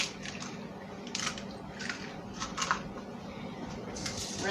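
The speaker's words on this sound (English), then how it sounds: "So I'm just going to crack these eggs real fast." Eggs cracked by hand in a warm home kitchen, giving a handful of short, crisp shell cracks and wet squishy taps spread over a few seconds against a low room hum.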